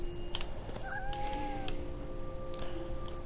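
A cat in What Remains of Edith Finch gives a short, warbling meow over a steady hum of game background sound, with no voices.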